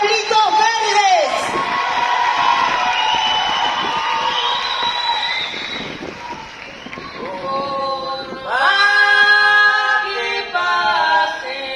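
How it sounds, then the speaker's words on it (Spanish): A crowd cheers and whoops loudly for a murga carnival troupe, with shouting voices and high excited cries rising and falling throughout. "Bien fuerte el aplauso."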